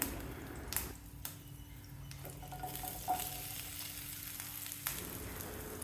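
Bitter gourd strips sizzle in a pan with curry leaves, soft frying crackle broken by several stirring clacks and scrapes, quiet and close with no talking.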